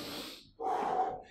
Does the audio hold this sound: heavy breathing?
yes